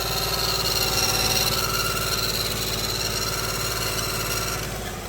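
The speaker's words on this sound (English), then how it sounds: "That doesn't sound like belt. That sounds like injector." A running LS1 V8 engine hums steadily up close, with a fast, even ticking from an injector riding on the drone before it eases slightly at the end.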